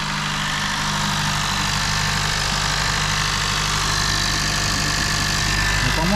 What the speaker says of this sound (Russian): Двигатель только работает.